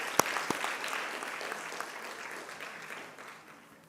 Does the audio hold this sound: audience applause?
yes